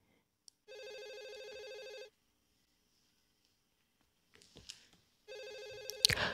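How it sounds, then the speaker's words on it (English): A telephone in a salon rings twice with steady electronic trills, each lasting over a second, separated by a pause with faint rustling, then a sharp clatter at the end. "Our phone is ringing, so I do have to answer that."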